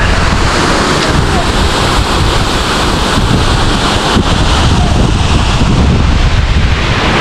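Rushing water and windblown spray at Aberdeen Waterfalls in Sri Lanka, a steady, loud, broadband roar close by that never lets up, with wind buffeting the microphone.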